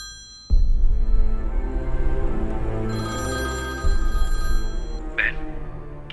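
A telephone bell rings loudly in bursts, with a steady electronic tone running underneath and a brief high chime near the end.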